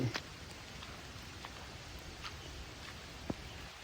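Steady rain falls outdoors in a constant soft hiss, with a few sharper drips and taps standing out near the start and toward the end.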